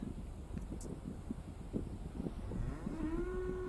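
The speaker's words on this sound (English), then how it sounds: "featuring cows" Cattle moo with a long, low call rising out of steady wind noise in open countryside near the Black Sea in Crimea, moderately distant, with rustling in the background.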